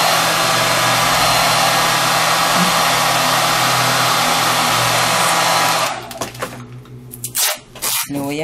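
Handheld hair dryer blowing steadily to dry a painted craft box made of MDF, a loud continuous whirring roar that stops after about six seconds, leaving quieter handling sounds.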